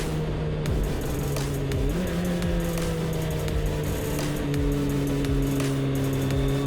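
A 2020 Suzuki Hayabusa motorcycle engine runs loud and steady at close range, its tone shifting slightly as it revs through the stretch.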